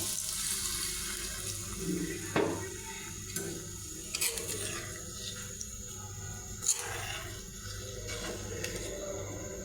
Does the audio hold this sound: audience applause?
no